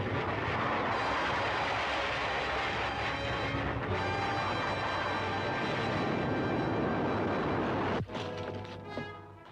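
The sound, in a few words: rocket ship flying out, radio drama sound effect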